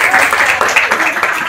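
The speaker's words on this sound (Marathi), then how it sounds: "ताईंसाठी जोरदार टाळ्या" An audience at a school mothers' and haldi-kumkum gathering claps loudly and densely for a woman singer, a close burst of applause.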